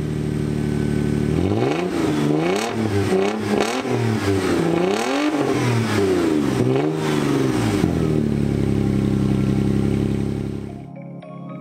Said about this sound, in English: if you remove the muffler, it sounds remarkably like a Nissan 350Z.